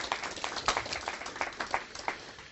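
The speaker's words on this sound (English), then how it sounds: "A very good style, but a round of applause." A small audience applauding after a game-marketing pitch: steady, moderately loud clapping from several people, uneven but continuous.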